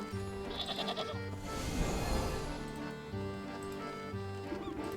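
Several sheep bleats in the video game Wytchwood sound over a looping backdrop of game music, the calls wavering and nasal, one swelling louder in the middle.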